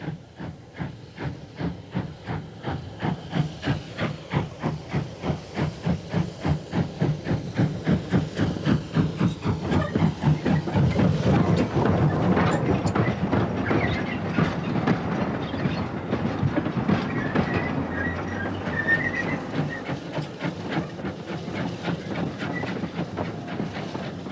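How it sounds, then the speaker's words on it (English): A vintage steam locomotive, number 673 Maud, pulling a vintage train on a preserved railway chuffs in a fast, steady rhythm with hissing steam and clattering wheels, growing louder as it passes close by, then easing slightly. "a live steam engine. Such as number 673 Maud, pulling and puffing and belching with its vintage train"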